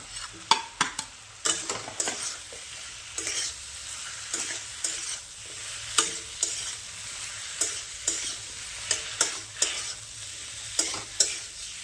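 Potatoes and eggplant fry in a pan in a village kitchen, with a steady sizzle under repeated scraping and clinking strokes as they are stirred, close up and without talk.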